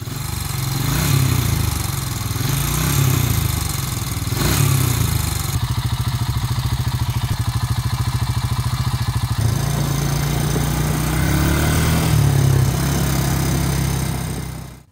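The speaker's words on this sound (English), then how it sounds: "I'll get this thing fired up and we'll take it for a little run" Honda TRX350 ATV engine running after suspension repair, a loud close rumbling idle with clattery mechanical rattle, the pitch and throttle shifting a few times before it cuts off at the end.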